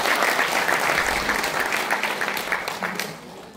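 An audience at a policy debate held in a national assembly gives a speaker a warm welcome with loud, sustained clapping that stays close and full for about three seconds before thinning out and fading.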